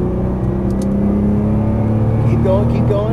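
A Nissan GT-R accelerating on a race track, its engine a loud, steady drone with rising tones as the throttle opens, heard from inside with a voice talking over it.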